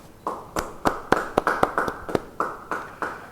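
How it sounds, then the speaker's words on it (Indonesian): Scattered applause in a church: a small group claps in quick, uneven bursts for a few seconds, with no talking. "yang setuju beri tepuk tangan buat Tuhan"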